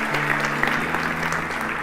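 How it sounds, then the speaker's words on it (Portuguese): A church congregation applauding during a lively service, a brief burst of many hands clapping at close range, with a sustained tone and voices mingling underneath. "Pode aplaudir o Senhor."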